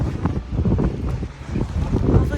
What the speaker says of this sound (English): It's windy and cold and muddy.